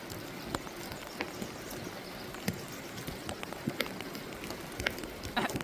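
Steady rain falling through a mossy, dripping forest on a wet hike, a dense continuous hiss scattered with sharper drops and taps, moderately quiet and with no voices over it.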